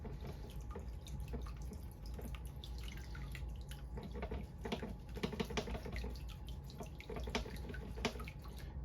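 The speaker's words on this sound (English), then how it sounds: "let's pour some material in here and start panning." Pay dirt is swirled and sloshed in a gold pan full of water, giving a continuous run of soft splashes and trickling drips, close and fairly quiet.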